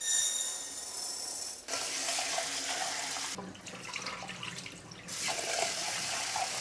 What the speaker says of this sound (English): I'm just going to quickly wash the rice.